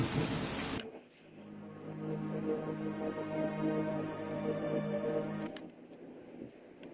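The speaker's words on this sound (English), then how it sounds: "Is it rain? Is the rain poisonous?" Steady rain in the video game S.T.A.L.K.E.R. Clear Sky, starting after a brief loud burst and continuing as an even, moderately loud hiss, with no talk.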